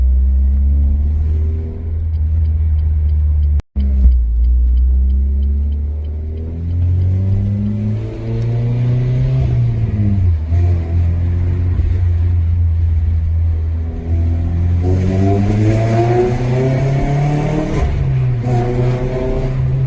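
A Renault Clio RS engine revs up and down repeatedly while driving on small roads, a steady mid-pitched rumble with rising and falling tones, fairly close and loud.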